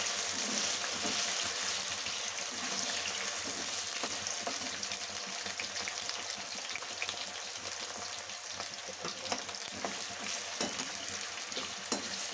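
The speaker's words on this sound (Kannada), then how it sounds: "ಪೊಟೊಟೊನ ಕಟ್ ಮಾಡಿ ಇಟ್ಕೊಂಡಿದ್ದೋ ಅದನ್ನು ಈ ಎಣ್ಣೆಯಲ್ಲಿ ಫ್ರೈ ಮಾಡ್ಕೊಳ್ಳೋಣ" Cut potatoes frying in hot oil for a brinjal curry, a dense, even sizzle running throughout at moderate, fairly quiet level with occasional faint stirring taps, no voices.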